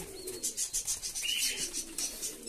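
Pigeons cooing close by in a rhythmic series of soft, rolling coos, with a few faint chirps mixed in during hot weather.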